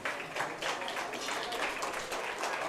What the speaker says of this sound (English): Let's give those exhibitors a round of applause.